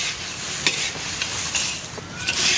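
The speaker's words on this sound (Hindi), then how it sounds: "पूरी टमटम को मिक्स करते हैं।" Tam tam namkeen snack mix is stirred in a container, a dense, continuous rustling and crunching with brief scraping accents, close and steady.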